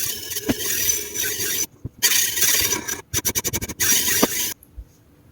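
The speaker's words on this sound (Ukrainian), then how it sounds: "Трошки, зовсім трошки попрацюємо бруском на прискореному відео" Sped-up whetstone strokes rubbing across a tool's bevels: a close, loud rasping scrape broken by short pauses, with a quick run of rapid rhythmic strokes near the middle and no talk.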